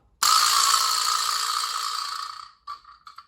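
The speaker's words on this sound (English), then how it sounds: "This is a vibra slap." A vibra slap struck once lets out a loud, buzzy metallic rattle that rings for about two seconds and fades, then a few faint clattering after-rattles follow.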